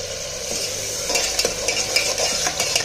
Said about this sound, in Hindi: अब इस मसाले को हम भून लेंगे, गैस तेज कर लेते हैं तो अब जल्दी भुन जाएगा मसाला।